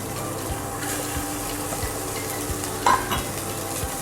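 Rice with fried carrot, beans and green chilies is stirred in a pan, with a steady sizzle and regular scraping strokes roughly every half second, close and without talk.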